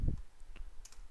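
A single computer keyboard Enter key press while working in CorelDraw, one soft low click at the start followed by a couple of faint lighter taps in a quiet room.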